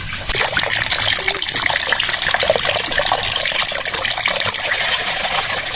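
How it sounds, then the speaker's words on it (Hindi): Two litres of milk pour steadily into a cooking pan for halwa, a continuous close gushing trickle that stays even throughout with no talk. "अभी इसमें हम डालेंगे 2 लीटर दूध"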